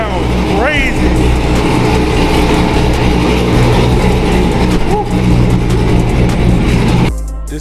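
A Chevrolet C7 Corvette V8 fitted with an AFE intake runs loud and close, a deep continuous engine drone with slight swells in pitch, and excited voices are heard over it.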